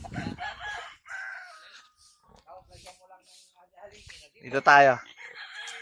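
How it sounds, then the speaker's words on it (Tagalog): Fighting-cock chicks and fowl on a Filipino farm, with a rooster crowing loudly near the end and scattered clucks among people speaking close by. "Dito naman ito yung mga sisiw ng mga panabong."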